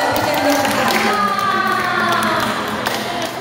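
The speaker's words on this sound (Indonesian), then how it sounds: "kita tepuk tangan dulu" A crowd at a youth sermon-writing competition applauds the first judge, loud dense clapping mixed with cheers and chatter filling the room throughout.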